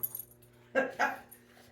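Dogs bark twice in quick succession, loud and close, with faint whimpering around them in a quiet indoor room during a pinball machine repair.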